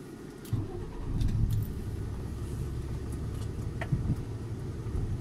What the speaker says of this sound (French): je tourne le volant à l'arrêt.